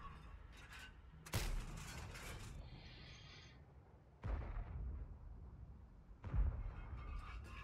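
Three heavy tank cannon blasts in World of Tanks fire at spaced intervals, each a sharp boom trailing into rumble, with a mechanical whir between shots in a quiet game scene.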